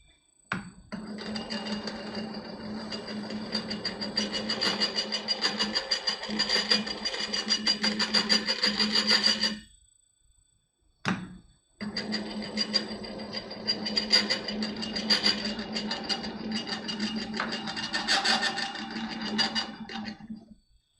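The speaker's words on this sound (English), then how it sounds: "Now I'm back on the polishing lap." An amethyst gemstone runs on a zirconium oxide polishing lap, making a steady rattling, buzzing mechanical hum with a faint whine, cutting out for a short pause before resuming.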